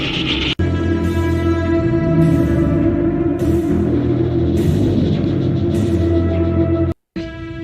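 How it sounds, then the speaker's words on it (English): A rattling buzz said to come from the Westworld 5G serpent tower, compared to a rattlesnake: a loud, continuous tonal drone with bursts of hissing rattle recurring about every second, with two abrupt brief dropouts. "It's the sound of a rattlesnake."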